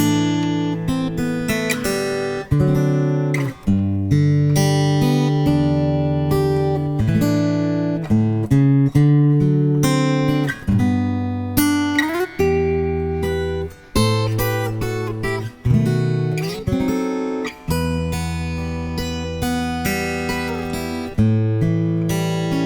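Solo guitar plays a chord melody, strummed chords ringing out in a slow steady rhythm, close and clear with no voices.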